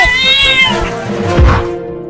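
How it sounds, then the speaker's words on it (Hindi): A cartoon cat meows in a long, drawn-out wail followed by a shorter cry, close and clear, with no talk. "अरे चिंटू वो बड़ी बिल्ली भी पाइप के अंदर चली गई अपने बाबू को बचाने के लिए"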